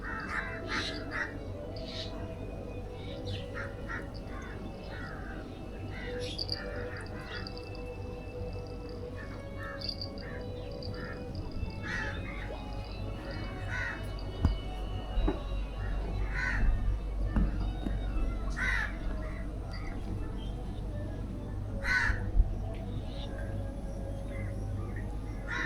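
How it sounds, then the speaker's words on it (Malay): Crows caw repeatedly at a fishing chalet in Kampung Baharu, Sitiawan, in the morning: scattered harsh calls at mid distance over a steady low outdoor rumble, with voices faintly in the background. "Banyak burung gagak."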